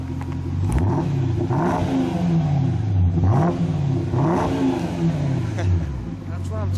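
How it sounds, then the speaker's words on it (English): A 2005 Jaguar XKR Stirling Moss Edition fitted with a Borla exhaust revs repeatedly, its engine rising and falling in three or four loud, close blips over a steady idle, with a voice talking over it. "You guys can probably hear the exhaust. Let me give it some gas here"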